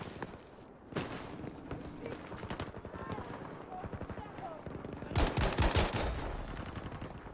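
Gewehr 1-5 rifle fire in Battlefield V multiplayer Breakthrough mode: rapid sharp gunshots crackle in bursts, with a loud cluster of shots near the end, mixed with other battlefield gunfire and someone talking over it.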